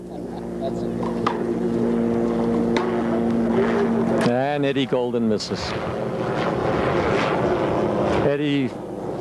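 A helicopter flying overhead at a 1985 one-wall big ball handball championship gives a low, steady engine drone with rotor-like throbbing throughout, with a voice speaking briefly over it and outdoor noise.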